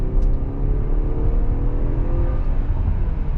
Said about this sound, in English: So first impression, so if I punch it,